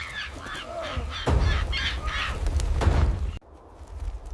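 Crows caw repeatedly, harsh calls carrying over a breezy outdoor background, with a few louder caws close by.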